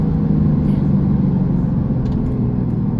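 A Porsche Turbo S pulls hard in second gear toward 4,000 rpm, its engine a steady, loud, close roar that holds without a break for the whole stretch.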